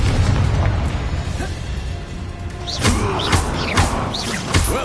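Explosive spell blasts in Hogwarts Legacy combat, a run of loud booming thumps and bursts over a dense rumbling bed of game noise, hitting in quick succession toward the end.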